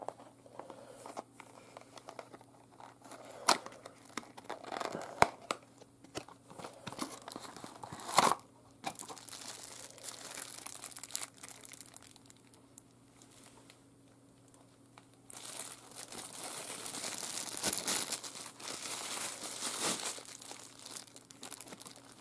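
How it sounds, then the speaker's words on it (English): Plastic packaging of a Midland WR-300 weather radio AC adapter being opened, with soft crinkling and occasional sharper tearing or crunching bursts, close and fairly quiet, growing into a denser rustle near the end. "let's just open up the AC adapter. Let's see, without ripping it up."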